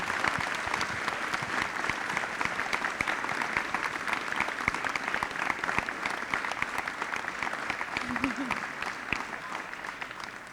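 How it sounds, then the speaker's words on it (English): A large audience at a technology conference applauds children after their keynote talk, with dense, even clapping that continues throughout at moderate distance. "So let's give our kids a round of applause."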